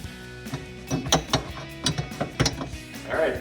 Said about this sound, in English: to tighten down the brass nuts for the major adjustments. It's a 15/16 inch wrench.